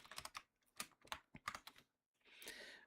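Someone types on a computer keyboard in short bursts of close, crisp key clicks with brief pauses between them, ending in a quick rapid flurry.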